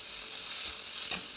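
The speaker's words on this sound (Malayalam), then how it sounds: "ഒരു 5 സവാള ചെറുതായിട്ട് കട്ട് ചെയ്തതും ഒരു 4 പച്ചമുളക് നടുവെന്ന് കീറിയതും അതോട് ഇട്ട് കൊടുത്ത് നല്ലോണം ഒന്ന് ഇളക്കി വഴറ്റിയെടുക്കണം." Chopped onions and slit green chillies sautéing in a pan for a chicken curry, a steady faint hiss of frying with a soft stirring scrape near the end and no voices.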